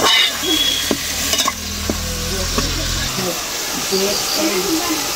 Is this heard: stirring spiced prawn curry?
yes